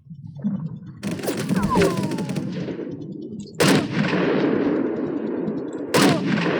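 Bursts of rapid machine gun fire and heavy gun blasts in a World War II shooter game, loud and close, with a few sharp separate shots breaking up the sustained firing.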